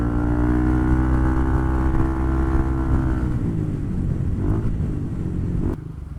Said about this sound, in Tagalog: Mahirap sumingit pag rush hour. Ayan, traffic